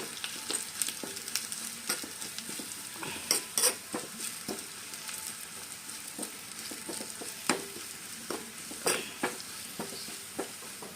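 Garlic sizzles steadily in hot oil in a pan, with intermittent scraping and clinking as a utensil stirs it, close and moderately loud with no talking.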